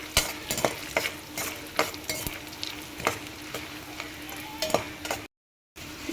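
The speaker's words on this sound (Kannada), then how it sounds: "ಇದಾದಮೇಲೆ ಇವಾಗ ಒಣ ಮೆಣಸಿಕಾಯಿನ ಹಾಕ್ಕೊಳ್ಳಿ. ಇದನ್ನು ಕೂಡ ಹೀಗೆ ಫ್ರೈ ಮಾಡ್ಕೊಳ್ಳಿ." Dry red chillies fry in a pan with a steady sizzle, broken by sharp clicks and scrapes of stirring, close and moderately loud, with a brief dropout to silence near the end.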